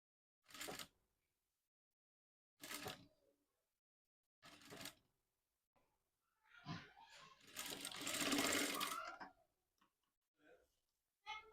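A sewing machine stitches a folded hem on a frock in short separate bursts, each lasting about a second, with quiet pauses between them and a longer burst toward the end, heard close and clear.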